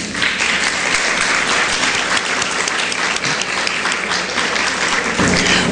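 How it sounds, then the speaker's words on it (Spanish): Loud, sustained applause fills a conference hall as a congress audience welcomes a speaker before the closing session. The clapping holds at an even, thick intensity from start to finish. "Recibámosla con un aplauso"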